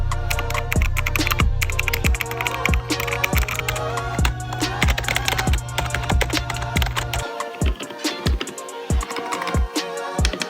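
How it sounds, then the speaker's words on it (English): Typing on mechanical and membrane computer keyboards: rapid clustered keystroke clicks and clacks sit over a steady low hum that cuts out near the end, leaving sparser taps. "Now I'm going to give you guys a sound test between mechanical keyboards and membrane keyboards."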